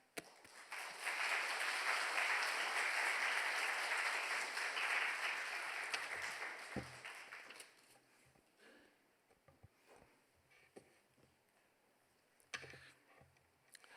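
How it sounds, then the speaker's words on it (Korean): A church congregation at Sunday worship applauds to welcome the pastor, a broad burst of clapping that builds in the first seconds, holds, then fades out by about seven seconds, leaving quiet room sounds and scattered small noises. "목사님 나오실 때 큰 박수로 환영해 주시기 부탁을 드립니다."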